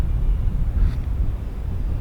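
Steady wind buffets the microphone in a low, rumbling roar, loud and close, with no other clear sounds.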